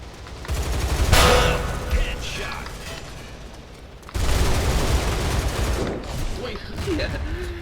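M4A1 rifle fire in the video game Line of Sight: dense, loud bursts of rapid automatic shots that run in two long stretches with a brief drop between them, mixed with other game sounds.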